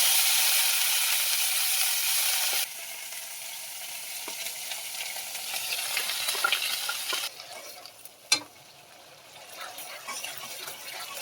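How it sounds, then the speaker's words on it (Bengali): Onion paste with black cumin seeds frying in hot oil in a pan for Bengali koi fish in oil: a loud, close sizzle that drops and settles, with scattered spatters and a sharp clatter of a utensil near the end. "পেঁয়াজটা আমি ভালো করে ভেজে নেব।"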